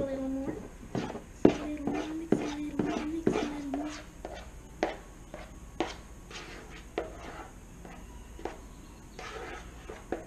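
Fluffy slime being mixed in a bowl, a run of sharp tapping and squelching strokes, close and irregular, with a voice talking over the first few seconds.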